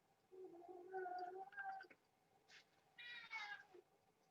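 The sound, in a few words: pet cat meowing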